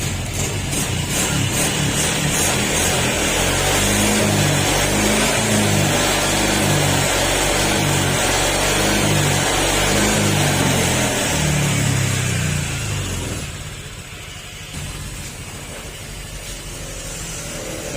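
A Honda Click 125 scooter engine, suspected of a bearing problem, runs steadily and loud at close range with a rough mechanical drone, then drops lower and quieter near the end.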